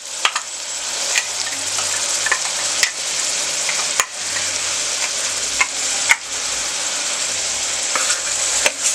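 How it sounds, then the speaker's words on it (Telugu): A steady, close hiss of ground masala frying in a pan for mutton curry, with soft periodic scrapes of stirring every second or so and no voices. "మసాలా మెల్లిపోయే వరకు కొంచెం వేగనివ్వాలండి"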